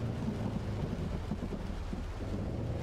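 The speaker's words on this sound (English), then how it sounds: "That lightning almost hit me." Thunder rumbling from lightning in a storm during a tornado chase, a steady low roar mixed with wind buffeting the microphone, loud and continuous with no talk.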